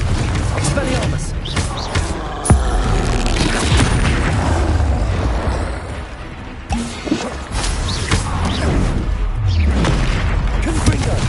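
Repeated blasting explosions from the Confringo fire spell during combat in the Hogwarts Legacy video game, booming impacts mixed with creaks and clattering mechanisms in a dense, continuous battle soundscape, with voices casting spells throughout.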